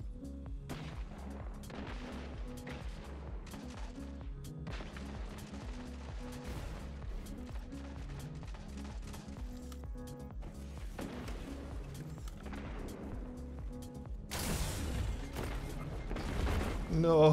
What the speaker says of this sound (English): Gambit rocket launcher. Okay, shoot it at someone